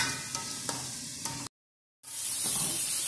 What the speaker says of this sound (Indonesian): lalu kita aduk dan kita tumis lagi sampai dia harum